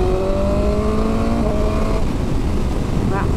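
A BMW M1000R naked motorcycle pulls hard under acceleration, its engine note climbing loud and near through rising gears with a brief shift break, under heavy wind rush.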